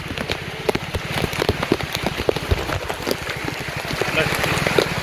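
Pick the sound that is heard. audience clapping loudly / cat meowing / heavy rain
heavy rain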